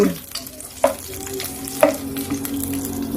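Adobo is stirred in a frying pan over a low sizzle, a utensil scraping the pan in a few distinct strokes, close and fairly loud against a steady background hiss.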